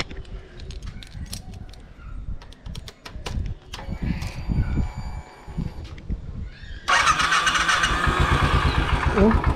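A Royal Enfield Classic 500 motorcycle after an oil change and service: clattering handling noises, then the engine fires and settles into a loud, steady idle close by.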